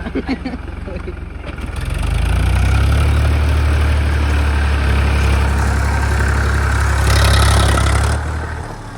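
A tractor engine running beside a river after being washed; a loud heavy low rumble starts after a couple of seconds and holds steady, with people talking over it.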